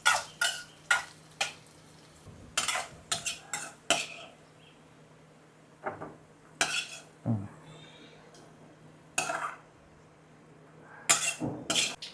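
Onions sautéing in a pan for a Tamil home-cooked dish, with intermittent scraping and stirring strokes of a spoon against the pan, separated by quiet pauses and a faint background hum.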